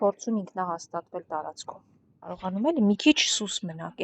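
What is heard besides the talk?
None of the usual background noises is heard.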